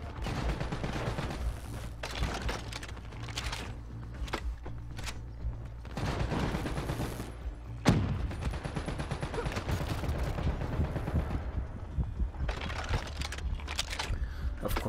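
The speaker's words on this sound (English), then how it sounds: "I really like using the BRM. It's a good light machine gun." BRM light machine gun fire in Call of Duty Black Ops 3 rattles in repeated bursts of rapid shots, with a heavy impact near the middle and sustained automatic fire afterward.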